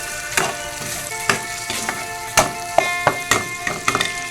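Ground meat sizzles and fries in a pan while being stirred, with repeated scraping spoon strokes over a steady close hiss; no talking.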